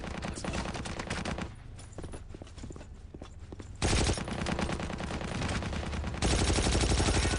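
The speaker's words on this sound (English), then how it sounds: "Well, I guess that was enough bullets to kill somebody." Gunfire in Battlefield 1942, a steady stream of rapid automatic shots running nearly continuously, loud and close, with a louder burst near the end.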